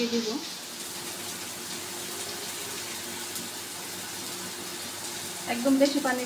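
Water pours steadily into a frying pan of crushed boal fish roe with onion, a continuous hissing gush lasting several seconds, with a brief clatter near the end.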